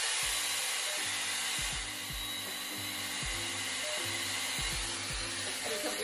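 A Shark FlexStyle hair dryer styler blows with a loud, steady whooshing roar, a low pulsing hum underneath, running continuously close by.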